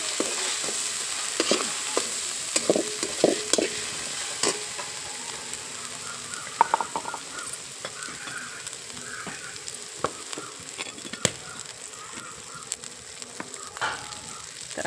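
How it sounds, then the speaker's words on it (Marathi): Masala paste made from gram dal is stir-fried in oil until the oil separates, giving a soft, steady sizzle with scattered spatters and occasional spoon scrapes, close by and with no voices. "तेलामध्ये अगदी तेल सुटेपर्यंत मसाला परतायचा"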